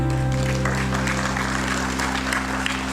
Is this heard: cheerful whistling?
no